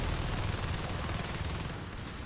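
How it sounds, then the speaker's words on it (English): Shotguns go off in a tight corridor during a Natural Selection 2 match, a dense, loud, continuous barrage of overlapping blasts with no pause. "Tight corridor, shotguns going off"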